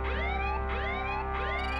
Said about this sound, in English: I'm getting some kind of alert signal